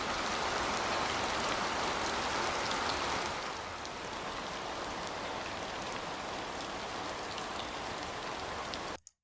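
Steady, dense rain pouring down across a surface, loud and continuous, easing slightly partway through before cutting off at the end.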